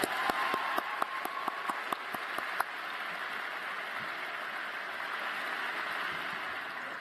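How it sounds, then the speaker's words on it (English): Commencement audience at a spring graduation ceremony applauds in a large hall, a broad, steady roar of clapping with a few sharp claps near the start, continuing evenly. "let's give everyone who's loved you and supported you another well-deserved round of applause"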